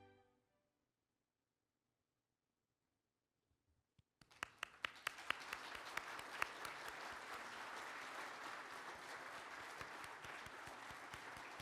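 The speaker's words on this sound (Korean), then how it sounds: "여러분 계속해서 뜨거운 박수로 축하해 주시기 바랍니다." Audience applause at an award ceremony breaks out after a few seconds of near silence, then swells into sustained dense clapping from a large crowd that holds steady to the end.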